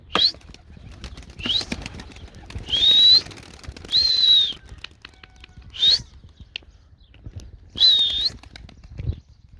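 Bursts of pigeon wings flapping in flight come and go in short flurries, with high chirping calls mixed in, against a quiet outdoor background.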